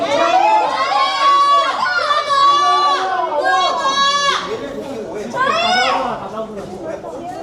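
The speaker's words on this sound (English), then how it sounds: "the crowd suddenly burst into screaming" A packed fan crowd at the iQIYI building screams in repeated high, rising bursts, many voices shrieking together in waves with chatter between them.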